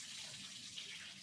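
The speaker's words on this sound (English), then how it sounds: "running tap water on the outside surface" Tap water runs over the outside surface of a container to cool it, a steady soft hiss and splash that stays even and faint throughout, with no talk.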